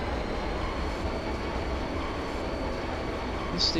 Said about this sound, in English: This is the only train bound for Deline City anyway.